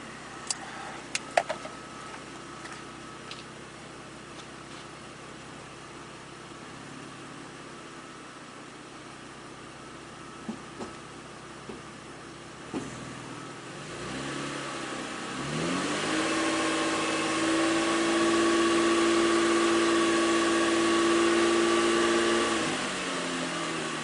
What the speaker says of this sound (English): Now it's telling me to increase RPM to 2500 and keep it for 5 seconds